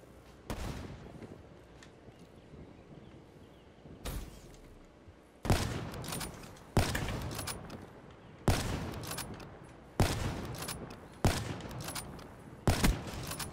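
Gunfire in Black Ops 3 multiplayer, a run of separate loud single shots spaced one to two seconds apart, close and sharp, with faint background game sound between them.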